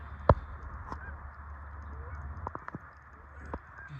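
A few scattered goose honks carry over the Ohio river during a duck hunt. The calls are fairly distant, with one sharper honk early and others spaced irregularly over a low, steady outdoor background.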